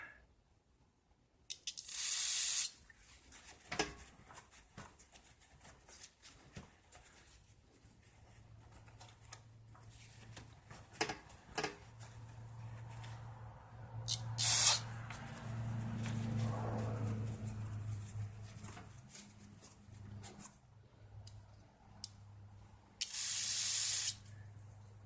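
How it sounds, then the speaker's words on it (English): Parts cleaner sprayed onto the shafts of a 1966 Rheem/Califone 1450 record player: a few short, sharp aerosol hisses in separate bursts, with quiet handling noises and a low hum between them. "Parts cleaner."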